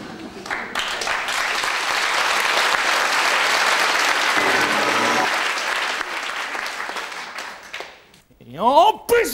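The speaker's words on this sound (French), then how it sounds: "Et en plus, ils s'applaudissent, quoi!" Dense, loud applause fills a theatre after a cinema-theatre stage show, sustained for several seconds before fading, then a voice speaks expressively near the end.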